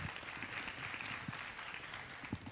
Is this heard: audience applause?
yes